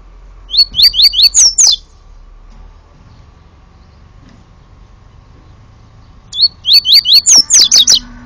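A caged songbird sings right beside the cage outdoors on a sidewalk, two loud bursts of rapid repeated chirping whistles separated by a quiet stretch of faint background noise.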